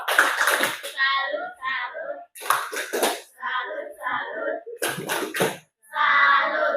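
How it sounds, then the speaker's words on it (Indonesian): Classroom of children clapping in energetic bursts: three loud rounds of rhythmic hand claps separated by stretches of chatter and a teacher's voice. "Berikan tepuk tangan dulu"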